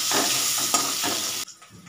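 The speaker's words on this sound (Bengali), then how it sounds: "এটা আবার আস্তে আস্তে একটু ভাজা হোক" Potatoes fry in a pan with a loud, close crackling sizzle and a few stirring scrapes, then cut off abruptly near the end, leaving only faint residual sounds.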